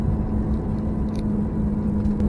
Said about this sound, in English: in Steve's Lambo right now, and we're just taking for a quick drive